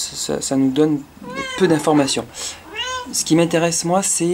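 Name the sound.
cat meowing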